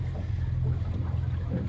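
A boat engine runs at low revs on the Murray River against a strong current, a steady low rumble with wind and water noise throughout.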